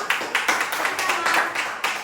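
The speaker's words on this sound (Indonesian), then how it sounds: "Tepuk tangan semua." A classroom of students applauds together, a dense run of hand claps with several louder bursts, fairly close and steady throughout.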